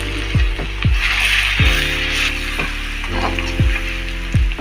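Sliced onions and ginger garlic paste sizzling in hot oil, a steady bright hiss broken by repeated sharp knocks of a utensil against the pan.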